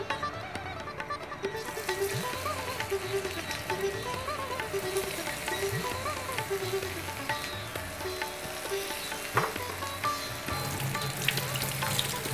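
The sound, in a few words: frying in hot oil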